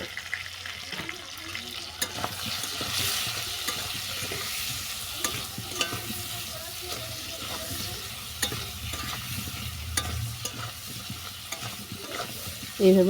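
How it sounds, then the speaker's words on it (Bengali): Bottle gourd greens and mixed vegetables being sautéed with salt and turmeric in a pan: a low, steady sizzle with scraping and stirring scuffs, moderately loud and without speech. "আরও কিছুক্ষণ কষিয়ে নেব লবণ হলুদ দেওয়ার পর"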